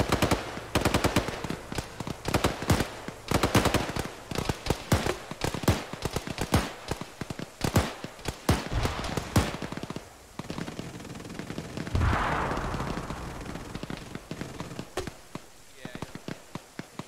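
Rapid rifle and machine-gun fire in Arma during a ShackTac squad operation, with dense cracking bursts for the first ten seconds and sparser distant shots afterward, under radio-style chatter from players.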